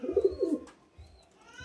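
Pigeon coos in a quick low throaty run at the start, then fades into a few softer murmurs, close and alone without any voices.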